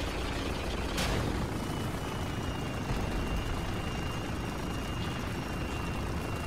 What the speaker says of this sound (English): Oh, burning helicopter.